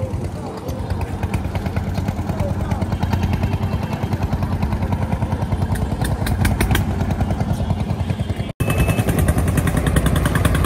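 A trawler boat's engine thuds in a fast, loud, continuous chug on the Buriganga river on a rainy day, with a brief cut near the end.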